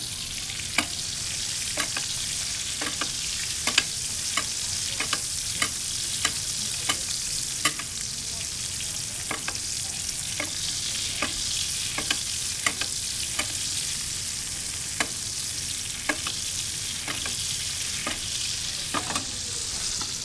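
Steak and garlic sear in butter in a pan, a constant loud sizzle with regular sharp spoon clacks as the hot butter is basted over the meat, no talking.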